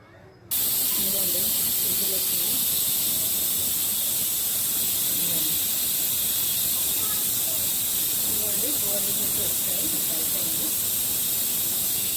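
A pressure cooker, used to cook okra curry, vents steam in a loud, continuous hiss that starts abruptly and holds steady, with faint background sounds underneath.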